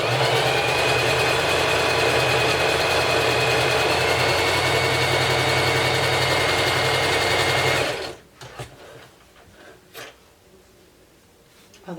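A sewing machine runs continuously close by for about eight seconds, a fast steady mechanical whir while stitching denim, then stops, leaving a few soft clicks and handling noises.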